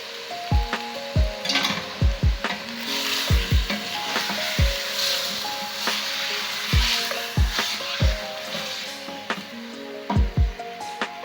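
Chicken qorma cooks in a pan with a steady sizzle underneath as a utensil knocks and scrapes the pan in regular strokes about once a second, close and clear.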